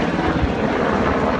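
A loud aircraft engine roars steadily from the runway at Richmond Airport, a continuous close droning rumble.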